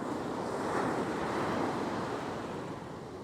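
Ocean surf breaking on a salmon-fishing beach, a broad steady wash of wave noise with wind rushing across the microphone, swelling slightly then easing, no voices.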